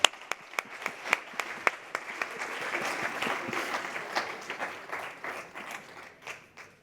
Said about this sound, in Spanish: Un aplauso para Rafael.